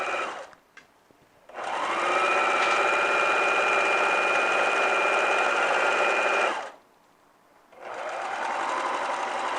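A domestic sewing machine stitches a cushion cover seam: a short burst, then a long steady run of rapid whirring stitching, a pause, and a second run that starts near the end. The machine is close and loud, with no talking.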